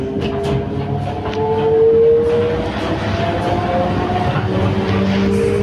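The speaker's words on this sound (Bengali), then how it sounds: "তো যাই হোক, ট্রেনও চলছে" A moving passenger train gives a steady, loud rolling rumble with a rattling undertone and thin metallic squeals rising and fading, with no voices.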